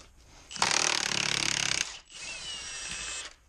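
A Milwaukee M18 Fuel 1/2-inch impact wrench hammers loudly and close on a decades-old rusted pinion nut, a dense rattling burst of roughly a second, a brief pause, then a second, slightly softer run.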